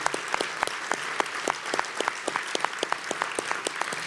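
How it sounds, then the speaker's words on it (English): Audience at an awards gala applauding steadily, many hands clapping in a dense, even patter that holds for several seconds with no talk over it. "Bob, Virginia, would you please stand for a round of applause?"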